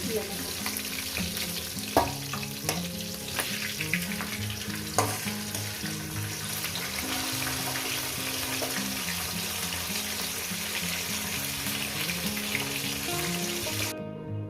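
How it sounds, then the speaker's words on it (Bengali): Bay leaves frying in hot oil in a pan while cooking a Bengali katla fish head and cabbage dish, giving a steady close sizzle with occasional stirring clicks throughout, no talking. "এখানে তেজপাতা কয়েক সেকেন্ড ভেজে নেব"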